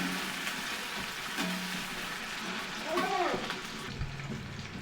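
Chopped onion and two split dried red chillies frying in oil in a pan for a vegetable rice dish, with a steady close sizzle and brief stirring scrapes over about five seconds.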